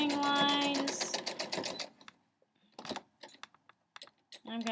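A sewing machine stitching fabric strips for a quilt block gives quick runs of rapid mechanical clicking in short bursts, first under a voice and then mostly alone with brief pauses.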